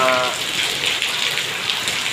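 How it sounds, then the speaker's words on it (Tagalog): Heavy rain pours steadily and loudly, a dense continuous hiss of drops on surfaces with no break. "malakas kasi yung ulan"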